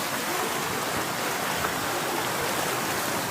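Floodwater rushes through a village after record heavy rain, washing away embankments, heard as a loud, constant roar of churning water close by, unbroken for the whole stretch.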